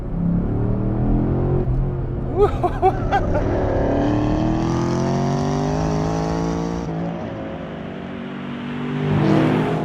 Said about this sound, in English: The engine is a 7-litre normally aspirated LS7 V8.